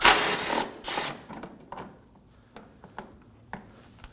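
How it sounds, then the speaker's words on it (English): A ratchet and 10mm socket work a bolt loose on a 2014-2020 Acura MDX during washer reservoir removal, giving sharp bursts of clicking and metallic scraping early on, then several short separate clicks fading into quieter gaps. "Remove the 10mm bolt."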